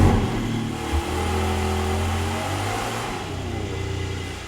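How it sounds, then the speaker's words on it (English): A Porsche Cayman GTS engine fires up with a sharp catch, then settles into a loud, steady, close-up rumble that holds with slight swells and no talking over it. "we're gonna fire up the car and see what it sounds like"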